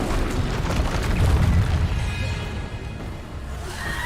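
A Bombarda spell explodes in Hogwarts Legacy, a deep rumbling boom with a sustained roaring blast that swells and slowly fades, followed by lingering game ambience and no talking.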